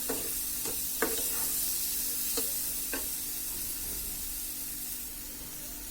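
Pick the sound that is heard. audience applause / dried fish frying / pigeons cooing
dried fish frying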